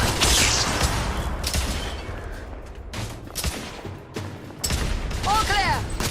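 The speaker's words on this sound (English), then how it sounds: "Lay down suppressive fire!" Suppressive gunfire from The Order: 1886, dense bursts of rifle and machine-gun shots rattling almost continuously at close range, with shouted voices mixed in and a brief lull near the middle.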